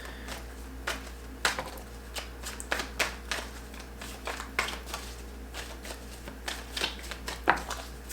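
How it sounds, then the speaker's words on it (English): Tarot cards are shuffled by hand in a close, quiet series of crisp riffles and soft slaps that arrive in irregular bursts, each about a second apart. "if I could even shuffle the cards?"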